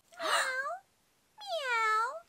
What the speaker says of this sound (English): Meow. Meow. Do you hear meow.